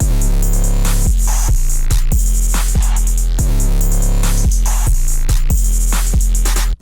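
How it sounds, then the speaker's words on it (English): A punchy programmed drum pattern with heavy 808 bass hits, claps, snare and hi-hats repeats in a tight, loud, rhythmic loop that cuts off abruptly at the end. "Then for the drums, it sounds like this."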